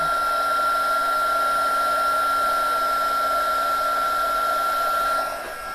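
A heat gun blows with a steady, loud whirring roar while it melts embossing powder on a junk journal page, held close and unbroken before it dips slightly at the end.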